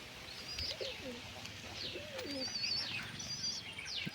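Several pigeons coo in soft low bursts nearby, mixed with higher chirps and a faint flutter of wings, continuous and unhurried.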